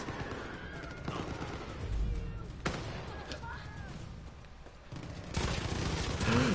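Turret gunfire in the video game Far Cry 5, heard as bursts of rapid shots in a co-op match, mixed with game noise and a player's voice talking over the action.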